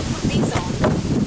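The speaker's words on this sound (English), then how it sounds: "I don't know how much you're going to hear because it's so windy" Steady wind buffets the microphone with a low, rumbling roar throughout the short moment, drowning out finer detail.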